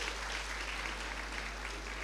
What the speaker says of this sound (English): A big hand for him, please.